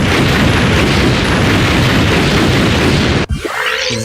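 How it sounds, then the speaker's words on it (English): A bomb detonating in Master Detective Archives: Rain Code, a sustained loud roaring blast filling most of the moment, then cutting off abruptly into a brief quieter rumbling tail. "Bomb will detonate in 5 seconds."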